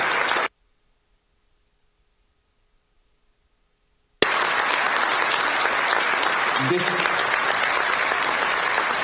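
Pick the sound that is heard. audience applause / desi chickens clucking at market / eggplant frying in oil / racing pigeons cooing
audience applause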